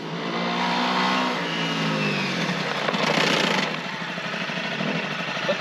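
A motorcycle engine drones and revs close by off-road while a rough scraping skid from the braking rear wheel rises briefly in the middle, then the engine continues alone.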